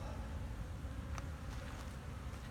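A swarm of honey bees stirred up from an opened hive buzzes all around, a thick continuous drone close to the listener with a faint breezy hiss underneath.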